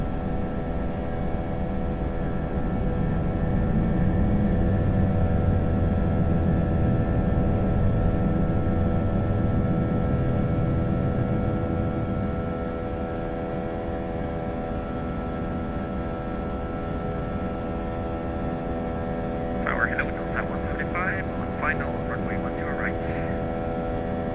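An Airbus A320 in the FSLabs flight simulator takes off, with a steady jet-engine roar and hum that eases after about twelve seconds, plus brief radio chatter chirps near the end.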